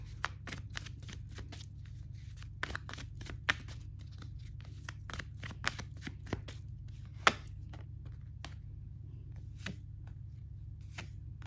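Tarot cards being shuffled by hand at close range, a rapid run of crisp riffling flicks and snaps, quiet and steady with a low background hum, no talking.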